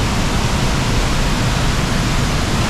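Fast-gushing water pours in a steady, loud, full roar with no breaks and no voices.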